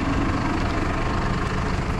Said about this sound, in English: I'm going to load it with this tractor.